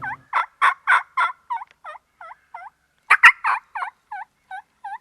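A wild turkey gobbles outdoors in two loud rattling series of rapid pulses that trail off into fainter notes, with a pause between the bursts and near silence around them.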